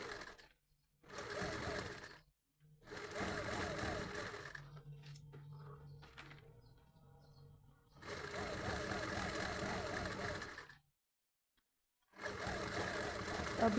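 A sewing machine stitches a thin fabric cord for a hand-made potli bag, running in loud steady bursts of a few seconds with short pauses between, and a quieter spell of handling midway.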